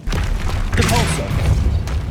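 The Repulso spell cast in Hogwarts Legacy on PS5 makes a short booming burst with a thud, about two seconds long, mixed with game sounds and a voice.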